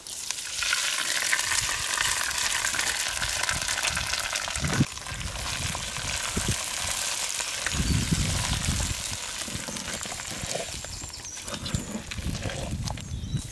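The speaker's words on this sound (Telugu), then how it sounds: "ఈ పోపు అంతా తీసుకెళ్ళి మనం పొంగల్లో వేసి బాగా కలుపుకొని" Cumin tempering, about two spoons of seeds fried in oil, is tipped into a pot of ven pongal and stirred in. A steady close sizzle runs throughout, with louder scraping, stirring bursts near five and eight seconds.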